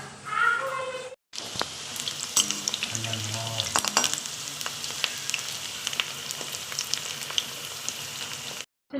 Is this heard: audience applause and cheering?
no